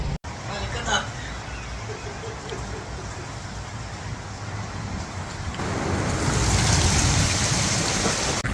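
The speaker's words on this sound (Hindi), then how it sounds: "अभी अभी बारिश हो रही है, काफ़ी देर हो गई है" Heavy rain in Madinah pours down in a dense, hissing wash that grows louder and heavier toward the end, with a brief dropout near the start.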